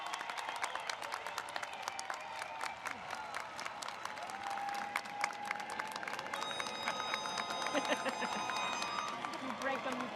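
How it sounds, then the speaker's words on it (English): An audience applauds graduates at a School of Engineering ceremony, with dense sustained clapping and some cheering filling the hall, loud and continuous throughout. "Please join me in another round of applause for our graduates."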